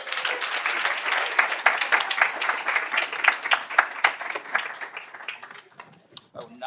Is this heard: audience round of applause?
yes